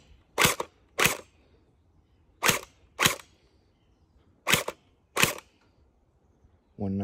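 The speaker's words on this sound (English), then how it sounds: "we're gonna give this a whirl in the chronograph right here." A gel blaster fires through a chronograph: six sharp, close, loud pops in three quick pairs separated by short silences, and a voice starts at the very end.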